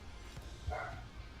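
A dog gives a single muffled bark in the background during a live stream of a video game tournament qualifier, fairly faint and brief against a steady room hum.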